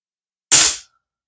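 A Crosman 1377 air pistol fires an Apolo 9.0 domed pellet: one sharp, short pop that cuts off quickly into silence.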